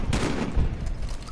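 A rapid volley of gunfire in Modern Warfare Remastered, a dense, close, loud burst of shots with a heavy boom that fades into a tail of reverberation.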